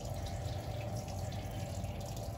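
A 40-gallon atmospheric-draft gas water heater being drained pours a steady, continuous rush of water with faint dripping and a constant hiss, loud and unbroken, with no talking.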